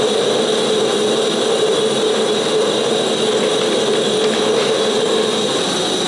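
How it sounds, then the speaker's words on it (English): A forge burner roars steadily at welding temperature while ladder-pattern Damascus steel is forged: a loud, constant, unbroken rushing blast with no pauses or voices. "Forge is up to temperature."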